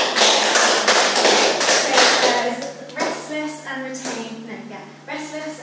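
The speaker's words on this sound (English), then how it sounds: "a round of applause for Lucy" Applause and clapping from an audience at a poetry workshop reading, loud and dense at first, then thinning into scattered claps as a person begins speaking over the tail.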